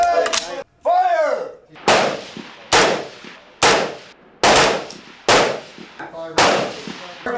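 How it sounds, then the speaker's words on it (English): Cadets fire C7 rifles on a range, about seven loud, sharp single shots spaced roughly a second apart, each ringing out with an echoing tail, after a short voice at the start. "Here the CLI cadets are given the opportunity for a familiarization C7 shoot."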